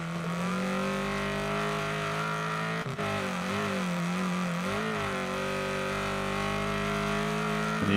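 Race car engines in Wreckfest 2 drone continuously at high revs, a steady layered whine that dips briefly as gears shift, loud and close throughout.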